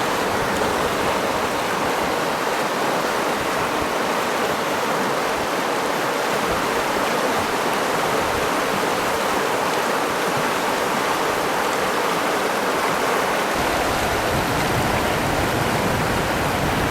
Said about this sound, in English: The best approach to get across this creek, this is Muddy Water Creek, is to avoid these powerful rapids behind me